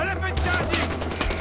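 Rapid automatic gunfire in the Far Cry 4 video game, a loud burst of close shots crackling in quick succession, with a voice partly under it.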